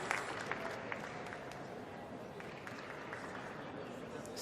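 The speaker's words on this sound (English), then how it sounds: "A little bit of noise in the arena. It's all people clapping at exactly the right time." An indoor arena crowd at the 2022 World Athletics Indoor Championships in Belgrade claps in a steady rhythmic beat, a broad wash of hand claps and crowd noise running under a commentator's voice.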